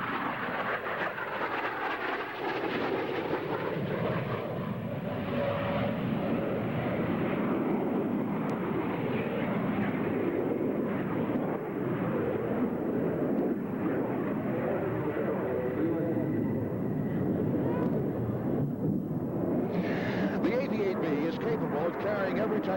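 An AV-8B Harrier jet pulls a high-G brake turn at the 1987 Top Gun airshow, giving a loud, continuous broadband roar that holds steady for the whole stretch.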